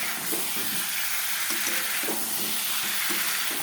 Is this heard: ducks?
no